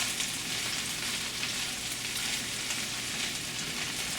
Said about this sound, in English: Stir as quick as possible to get your egg distributed to everywhere inside this skillet.